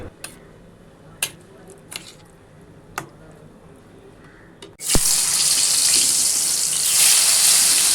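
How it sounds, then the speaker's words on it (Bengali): Potatoes hit hot oil in a pan, and a loud, continuous sizzling hiss erupts and holds steady, preceded by a few scattered clicks and knocks at the stove. "আগে আলু ভাজাটা বসিয়ে নিই"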